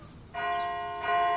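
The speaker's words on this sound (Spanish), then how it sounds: "La gente fue despertada por un repique de campanas." Church bells peal as a sound effect in an audiobook, a short close ring of bright sustained tones that strike twice in quick succession.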